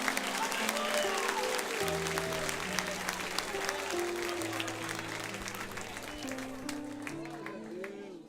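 A church congregation claps loudly and continuously for several seconds during a Portuguese-language service while a sustained organ or keyboard chord plays underneath.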